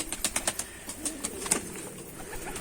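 Pigeons or doves in a backyard coop, with brief wing flaps and soft fluttering bursts near the start, scattered light flutters through the rest, and quiet, fairly close movement with no talking.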